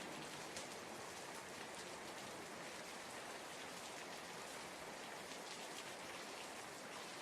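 Heavy, steady rain pours down in an even, dense hiss that fills the whole stretch without a break, close and constant, like a hard downpour on a back road at night.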